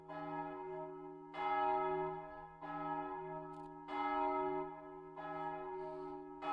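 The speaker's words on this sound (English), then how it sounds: "somebody's ringing the bells" Church bells ringing in Liechtenstein, a series of resonant tolls at uneven intervals, each swelling and decaying over roughly a second, heard from a moderate distance with no talk.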